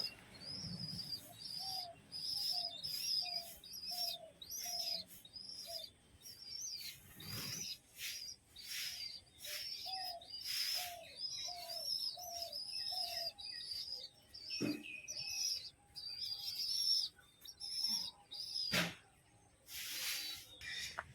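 Pigeons cooing in a soft, repeated rhythm of low calls, with scattered chirps and occasional wing flaps mixed in, all faint and fairly distant, with no voices.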